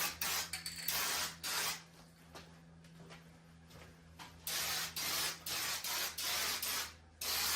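Bursts of hissing spray from a turbo spray paint can with a wide fan tip, several sustained blasts separated by short pauses, close and fairly loud.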